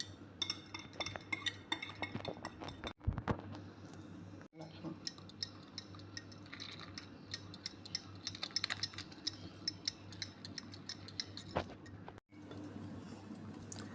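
Besan (gram flour) batter with turmeric, salt and a little baking soda being stirred in a bowl, faint repeated clinks and scrapes of a spoon over a low hum, with quiet talk.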